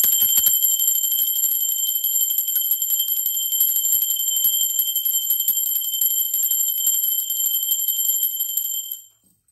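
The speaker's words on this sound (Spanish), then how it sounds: "ahora sí, va campana" A steady, bright ringing tone, like a small bell or chime, holds at even loudness for about nine seconds and then stops abruptly, with no voices over it.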